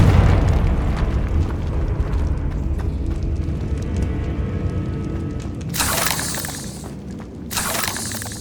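A Confringo explosive spell blasts in Hogwarts Legacy, a deep rumbling boom followed by two bright, shattering crackles of debris in quick succession.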